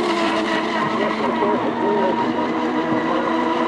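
Radio-controlled FE model racing boats roar past in a final heat, a continuous loud high-pitched motor whine with an announcer's voice talking over it throughout.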